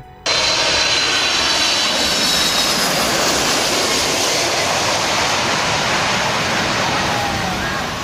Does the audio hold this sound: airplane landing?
yes